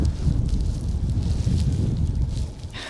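Strong wind buffets the microphone on a railway bridge, a continuous low roaring rumble with gusty swells, loud and close.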